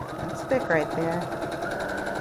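A sewing machine with a walking foot stitches through a quilt, a fast steady mechanical chatter running close and continuous, with brief voice-like sounds over it.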